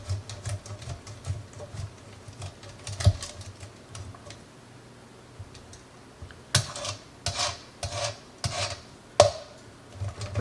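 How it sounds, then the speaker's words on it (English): Cheese shredded on a grater in a home kitchen, heard as uneven rasping strokes close by, quiet at first and then louder, sharper scrapes in bursts, with no talking. "Can we bring the camera down here so you can see me shredding cheese?"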